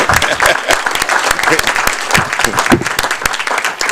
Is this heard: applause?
yes